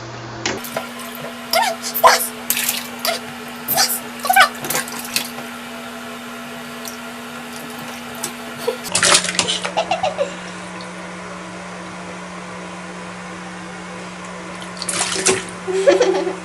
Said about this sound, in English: He's discovered he can splash.